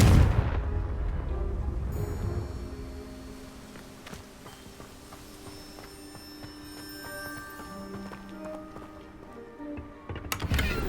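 The Confringo blasting curse in the video game Hogwarts Legacy fires off as a series of booming explosive bursts against a quiet ambient game background, fairly faint and with no speech.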